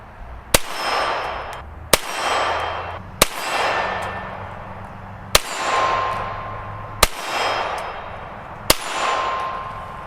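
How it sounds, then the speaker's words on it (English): Six sharp reports from a suppressed .22 LR pistol with a short barrel, evenly spaced about every one and a half seconds, each a loud crack trailing into a long ringing decay. "So pretty loud, 22 long rifle out of a pistol barrel usually is not ear safe because you do have a short barrel"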